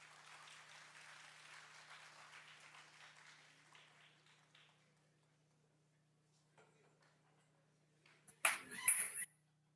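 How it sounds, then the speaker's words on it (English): A conference audience applauds in a faint, spread-out patter that fades away after a few seconds, followed by near silence and a brief louder burst of noise at the end. "Can we have a huge round of applause for Mr."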